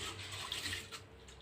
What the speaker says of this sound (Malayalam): വെള്ളം ആദ്യം ഊറ്റിക്കളഞ്ഞ് അതിൽ കുറച്ച് പച്ചവെള്ളം ഒഴിച്ച്